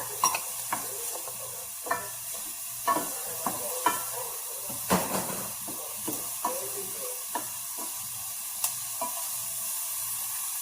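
Minced garlic cooks in a pan with a continuous sizzle, broken by repeated sharp scraping and stirring knocks of a utensil against the pan at irregular intervals, close and clear, with no talking.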